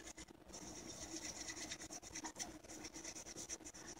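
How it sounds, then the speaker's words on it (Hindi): A wet brush scrubbed back and forth over fingernails, a soft continuous rasping rub, faint and close, with no speech. "गीला करने के बाद अब आप अपने नेल्स पर इसको इस तरह से रगड़ लीजिए।"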